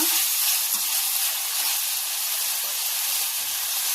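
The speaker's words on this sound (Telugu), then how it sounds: "కూరగాయ ముక్కల్ని ఫ్రై చేసుకున్నా" Pieces of beans, carrot, potato, green chilli and tomato with mint and coriander fry in a pan for vegetable biryani, giving a loud, steady, close sizzling hiss that continues unbroken with no talking.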